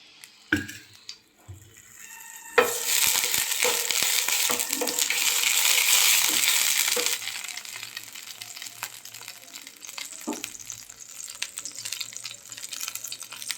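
Oil heating in a nonstick wok on a gas stove: a few light clicks and taps, then a sudden burst of close sizzling hiss that swells, eases after several seconds and carries on as a softer, steady crackle.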